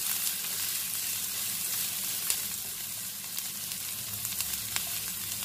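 Onions fry in a pan for poha, giving a faint, steady sizzle with occasional soft crackles and stirring sounds, with no voices over it.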